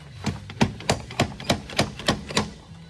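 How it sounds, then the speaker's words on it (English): An axle is yanked out of a vehicle hub, producing about nine sharp metallic knocks in a steady rhythm, close and fairly loud, with no talking. "And then you just take the axle and you start yanking."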